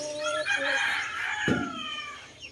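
A rooster crows once, loud and drawn out, with other fowl clucking faintly in the background.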